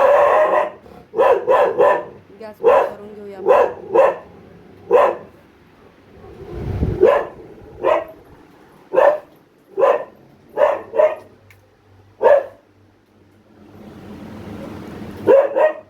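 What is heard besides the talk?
dog barking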